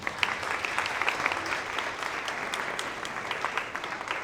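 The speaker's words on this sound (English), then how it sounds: "let's have a round of applause" A student union audience at a political candidates' question time gives steady, moderately loud applause, a continuous patter of many hands clapping throughout.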